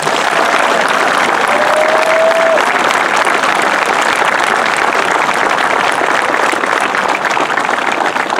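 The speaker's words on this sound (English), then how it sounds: "let's have a rounding applause for every one of these families." A large outdoor crowd at a North Country Honor Flight ceremony gives sustained, loud, even applause for the veterans' families, unbroken throughout, with a brief whistle-like tone early on.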